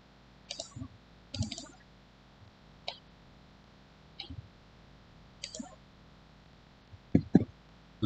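Small sharp clicks of a computer mouse while working in ArchiCAD 27, single and double taps scattered sparsely over quiet room tone, with a couple of louder knocks near the end.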